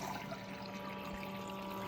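Water switched on runs steadily through a gold sluice, a soft, even rushing and trickling flow with a faint pump hum beneath, low in level and without talk.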